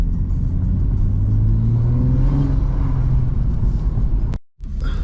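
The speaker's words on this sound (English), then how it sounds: "So we're having the first drive with the MST air filter on." A BMW M135i with an MST air filter fitted pulls away on a drive, its engine rumbling and revving steadily up with a rising pitch, heard from inside the car, before cutting out abruptly near the end.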